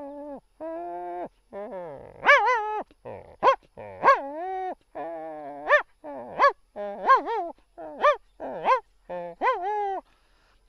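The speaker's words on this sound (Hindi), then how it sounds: "अनजान आदमी हो तो देखिए कैसे भौंकेगा।" A dog barks and yips repeatedly at close range, sharp excited barks with some whiny rising tones, in irregular bursts.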